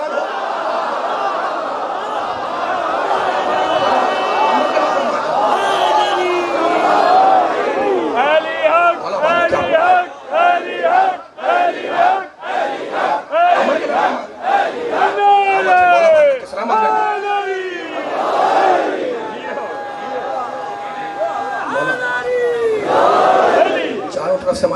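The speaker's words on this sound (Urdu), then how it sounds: "ماشاءاللہ نعرے گونج رہے ہیں" A crowd at an annual Shia religious gathering in Muzaffargarh chants religious slogans loudly in unison. Rhythmic, repeated shouted phrases rise and fall in bursts, with brief pauses between calls.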